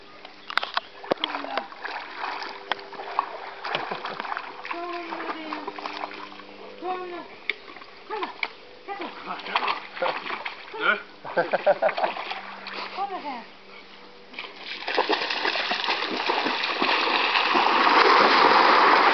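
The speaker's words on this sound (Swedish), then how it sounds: "Plaskigt i plask." A Cane Corso swimming and splashing through water, with repeated sloshing and splatter that grows into a louder, continuous rush of churned water near the end, while a person talks and praises the dog throughout.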